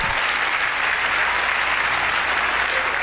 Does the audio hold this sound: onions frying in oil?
no